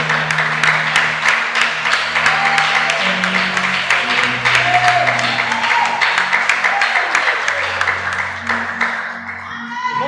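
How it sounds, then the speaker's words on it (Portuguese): A church congregation gives a loud round of applause to glorify the Lord, sustained clapping near and dense for most of the stretch, with voices and tones beneath, tapering off at the end. "bate a salva de palmas alta, glorifica o nome do Senhor"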